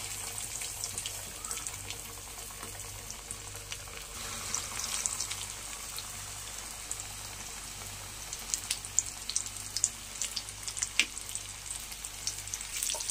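KFC-style chicken wings deep frying in hot oil on a low flame: a steady, close bubbling sizzle that runs throughout, with sharper crackles and pops growing denser toward the end.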